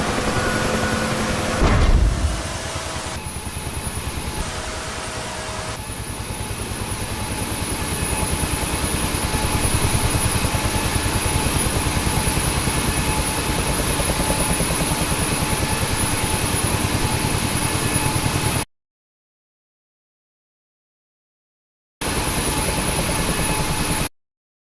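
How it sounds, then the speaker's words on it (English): A helicopter flies in the DCS flight simulator game, its rotor and engine making a steady, loud drone with constant whine tones. A short thump comes near the start, then the sound cuts out briefly and returns. "helicopter."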